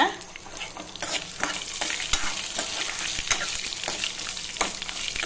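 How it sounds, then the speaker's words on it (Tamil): Garlic cloves, dried red chillies and curry leaves frying in oil in a pan, a continuous crackling sizzle broken by repeated spatula scrapes and stirs, close and fairly loud. "இப்போ நம்ம இந்த வெத்தலையும் போட்டுங்க நல்லா எண்ணெயில் வதக்கிக்கலாங்க"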